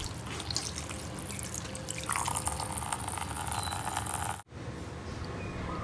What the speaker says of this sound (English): After 30 minutes for soaking in baking soda, time to rinse the meat, cut off excess water.